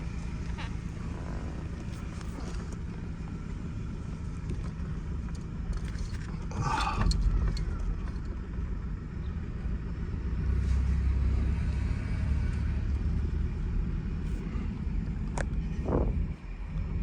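An old, cheap Toyota Camry with no power steering is driven, giving a steady low engine rumble with faint mechanical rattles and a few brief knocks, heard from inside the car.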